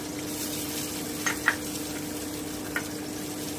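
Chopped tomato and capsicum frying in a pan over low heat for paneer bhurji, a steady soft sizzle throughout with a few faint clicks of stirring, close and with no talk.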